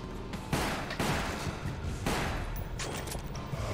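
Gunfire in the video game Resident Evil: Umbrella Chronicles as barrels are shot: four loud, sharp shots at a steady rhythm over a dense, noisy rumble.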